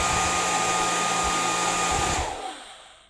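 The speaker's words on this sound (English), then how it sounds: "Got to get that wet hair dry with the blow dryer." A blow dryer for drying wet hair runs with a steady, loud whine and airy rush, holding constant for about two seconds before winding down and fading out.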